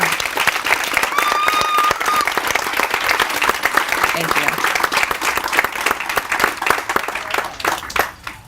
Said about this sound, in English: Let's recognize their contribution to the success by giving our fine staff a huge round of applause.